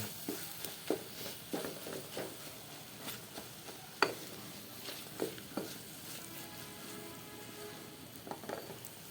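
Shrimp and coriander leaf bhaji sizzles quietly in a pan in a small home kitchen, a soft steady fry broken by occasional scraping taps of stirring.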